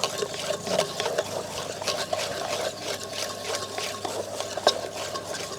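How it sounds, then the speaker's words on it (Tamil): A spoon works through red velvet cake batter made from a ready mix, with thick, wet stirring strokes and soft scraping against the bowl close up, repeating steadily and alone. "நல்லா கட்டி விடாமல் நல்லா கிண்டி எடுத்தாச்சுங்க"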